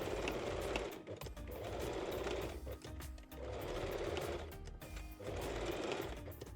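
A sewing machine backstitches along the edges of a lace bra, running in several short rhythmic bursts with brief pauses between them, close by.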